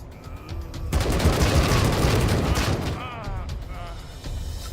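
Gunfire erupts in the video game Wasteland 3, a dense burst of rapid shots and booms lasting a couple of seconds, then fading into quieter game sounds while a person talks intermittently.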